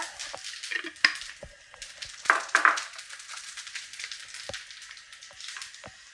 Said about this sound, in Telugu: కాగినటువంటి ఆయిల్లో కొద్దిగా జీలకర్ర